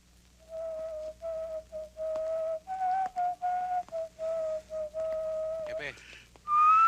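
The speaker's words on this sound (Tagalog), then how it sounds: "hindi ko kursunada ang tunog ng sipol nun" A person whistles a tune in an action film scene: a string of short, clear whistled notes in a steady rhythm, with a rising slide and higher notes at the end, close and distinct.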